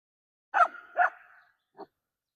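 A dog gives two short barks or yips followed by a brief softer yelp, close and clear against silence, while several dogs lie together in a pile in a dog yard.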